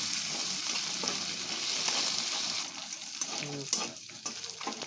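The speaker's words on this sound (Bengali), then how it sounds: "রসুনটা একটু ভাজা ভাজা করে" Garlic and slit green chillies frying in oil in a pan, with a steady close sizzle throughout, some stirring scrapes and small crackles, and no talking.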